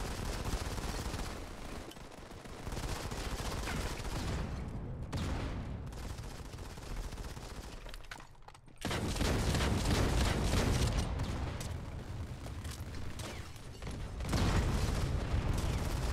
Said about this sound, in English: I think someone's shooting us from behind